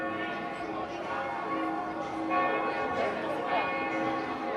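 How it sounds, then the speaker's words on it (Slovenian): Church bells ring with a sustained, resonant tone at a church in northern Bosnia. The ringing continues through the whole stretch, and people talk over it. "In še zvončklajo."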